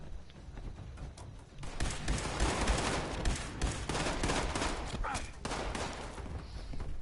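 Rapid gunfire from a video game firefight, dense bursts of shots rattling continuously for most of the stretch at moderate loudness, with faint voices underneath.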